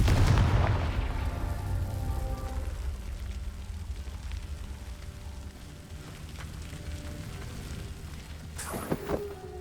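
Confringo blasting spell exploding in the Hogwarts Legacy video game: a deep booming burst at the start that rumbles and fades over several seconds, followed by a sharp crack near the end.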